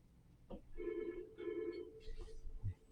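A telephone rings quietly with two electronic trilling bursts, separated by a short gap, set against faint background sound.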